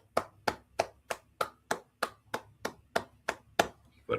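Applause from a studio audience on a midday talk show, heard as a dozen evenly spaced, sharp claps in a steady rhythm, close and distinct against near silence.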